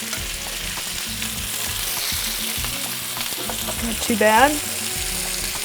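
Pesto-stuffed chicken sears in a pan after being turned, a constant close sizzle with utensil scrapes and taps, and someone speaks briefly near the end.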